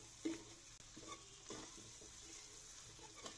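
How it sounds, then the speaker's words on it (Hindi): Chicken pieces fry in a pan with ginger, garlic and onion, giving a faint, steady sizzle broken by soft scraping stirs and a few small clicks from the utensil. "तो अभी हम अदरक लहसुन और प्याज में चिकन को अच्छी तरह से भूनेंगे हम, जब तक इसका कलर व्हाइट नहीं हो जाता।"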